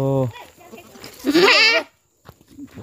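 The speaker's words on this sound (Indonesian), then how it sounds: "Kambing." Goat at a pen bleating in a loud, wavering cry near the microphone, with a person speaking briefly before and after.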